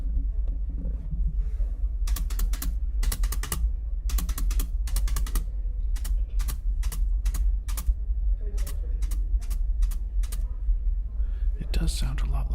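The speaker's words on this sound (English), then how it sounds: "these are drum set brushes on a wooden desk with a microphone right next to" Drum set brushes tapped and swept on a wooden desk, close-miked, giving crisp clustered clicks in rapid bursts like typing, with brief pauses between runs over a low steady hum.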